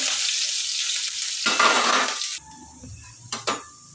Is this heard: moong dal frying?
yes